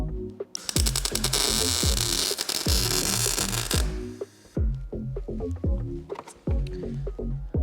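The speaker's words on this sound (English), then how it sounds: "Should we run a full weld?" A full weld is run on metal, heard as a dense, steady crackling buzz that lasts about four seconds. Throbbing, rhythmic background music plays under it and carries on after the weld stops.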